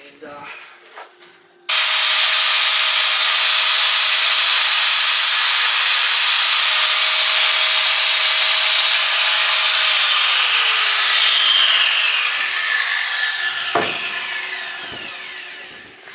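An angle grinder works over the welds on a vehicle tail shaft, a loud, steady high-pitched abrasive roar running continuously for about ten seconds before spinning down and trailing off into quiet clatter.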